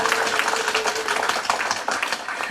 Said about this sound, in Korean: 스스로를 향해서 박수 한번 부탁드립니다